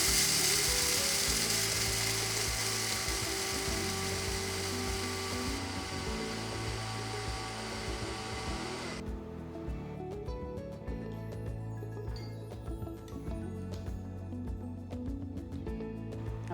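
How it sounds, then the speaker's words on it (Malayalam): Electric mixer grinder pulverising roasted rasam spice powder, a steady mechanical whirring and rattling that runs continuously and close by, shifting in tone partway through as the blades work the spices. "ഇതെല്ലാം കൂടെ നന്നായിട്ട് പൊടിച്ചെടുക്കാം."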